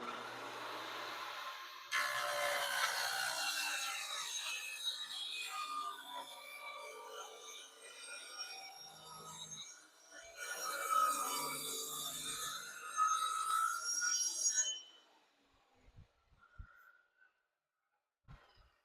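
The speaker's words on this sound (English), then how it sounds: "cutting pieces for furniture that really, it's not the nicest saw in the world" A hand saw recuts reclaimed wood pieces for a furniture shelf, giving bursts of scratchy rasping strokes in two main spells, then quieting to a few faint knocks.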